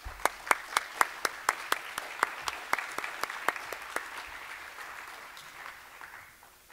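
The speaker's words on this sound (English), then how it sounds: "Let's give him a round of applause." An audience at a Christian school spring sports awards ceremony breaks into applause, sharp individual claps rising into a steady wash of clapping that slowly thins out toward the end.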